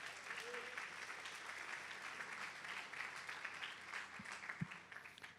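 Church congregation applauding during a worship service, a dense sustained wash of clapping heard from a distance and rather faint, with a couple of low thumps near the end.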